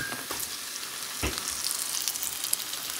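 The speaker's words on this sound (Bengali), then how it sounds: "বড়াগুলো ভাজা হয়ে গেছে" Fritters (bora) frying in hot oil in a home kitchen, a steady bright sizzle and crackle with one sharp clatter partway through; no voices.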